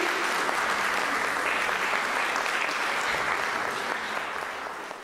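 Applause from an audience at a cultural award ceremony, a dense, sustained wash of clapping that stays loud throughout and tapers slightly at the end, with no speech over it.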